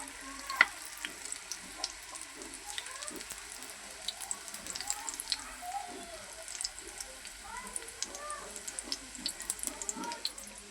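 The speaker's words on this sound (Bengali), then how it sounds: "এই যে আমি মোগলাই পরোটাগুলি ভাইজা নিতেছি।" Mughlai paratha frying in a pan, a soft, steady sizzle with occasional clinks, fairly faint against a quiet room with light background chirping.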